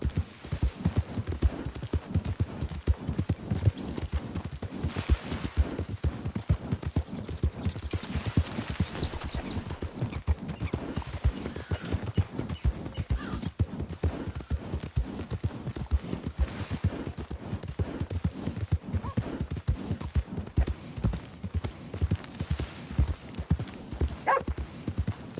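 Horse hooves galloping in Red Dead Redemption 2, a fast, steady clip-clop rhythm running loud and close throughout with faint background game sounds.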